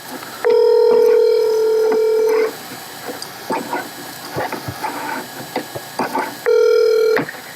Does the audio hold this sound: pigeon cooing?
no